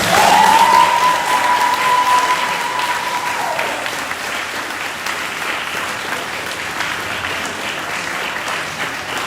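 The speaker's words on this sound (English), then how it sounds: "give them the biggest round of applause" At an MBBS oath-taking ceremony, a large audience gives a loud, steady round of applause that keeps going throughout, with a brief high whistling tone near the start.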